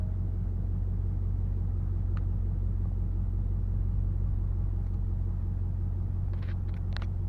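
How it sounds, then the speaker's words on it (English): A 6.7 Powerstroke diesel pickup truck idling and being moved a short distance, a steady low engine rumble throughout, close and continuous with a few faint clicks near the end. "Just going to move my truck out of the way a little bit."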